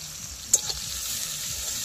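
Onion and cumin seeds sizzle in hot oil, a soft steady frying hiss with a sharp clatter of stirring partway through.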